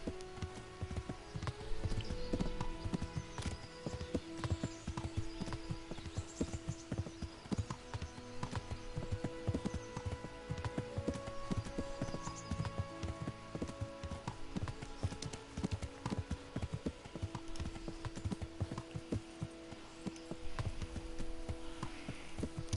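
Horse hooves clip-clop at a steady walking pace in the Kingdom Come: Deliverance video game, close and continuous over a low hum, with faint tonal game sounds in the background.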